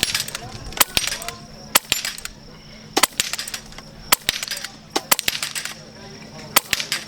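Sharp, sudden airgun shots from an FX Revolution and other rifles ring out at an outdoor airgun shooting competition in Utah, roughly a dozen irregularly spaced cracks, some close together, over a low background murmur.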